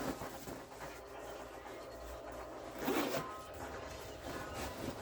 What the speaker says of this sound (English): Zipper in back.